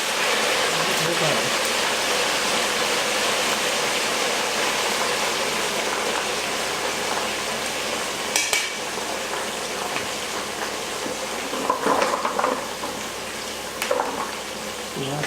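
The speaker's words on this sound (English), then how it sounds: "It's going to fry up for a couple of minutes" Food frying in hot oil after being lowered into the pan: a steady, dense crackling sizzle throughout, close and loud, with a few brief louder pops and splutters and a voice faintly in the background.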